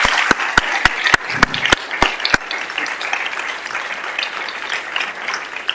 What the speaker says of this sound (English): Perhaps we can end with a round of applause for Simon.